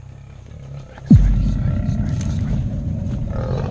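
An aggressive lion roars at hunters in Kruger National Park: a sudden, loud burst erupts after a quiet lead-in, then a heavy, rumbling growl carries on to the end.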